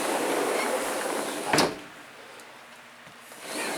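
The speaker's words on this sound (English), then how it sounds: "You see, this is a sliding glass door." A sliding glass door glides along its track in a short, sharp scrape, heard once over a steady wash of heavy monsoon rain outside.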